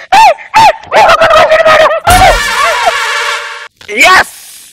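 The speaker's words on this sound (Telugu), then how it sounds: "కుక్క లాక్కుపోయింది సార్" A dog barks in a Telugu comedy skit staged around a hospital scene: loud, separate yelps in a short burst, then a break and one more bark near the end. The barks sound close and cut across a busy background.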